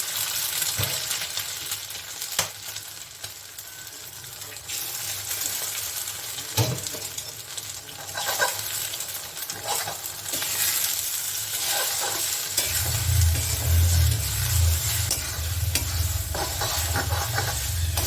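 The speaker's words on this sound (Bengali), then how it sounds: "এটাকে ডিমটাকে আমি একদম ভাজা ভাজা করে নেব" Steady sizzling of three eggs frying in a pan with fried onions, with scraping stirring strokes throughout and a louder, heavier sizzle toward the end.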